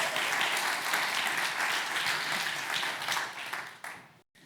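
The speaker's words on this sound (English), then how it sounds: "maybe a round of applause for these guys" Applause from a business conference audience for earlier speakers: a sustained wash of clapping that stays even, then tapers and cuts off abruptly near the end.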